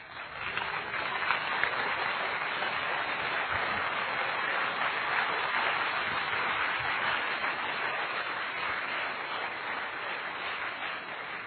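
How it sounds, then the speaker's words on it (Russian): Sustained applause from an audience at a men's church conference fills the whole stretch, a dense, steady wash of clapping with no voices over it. "Дайте аплодисменты Иисусу."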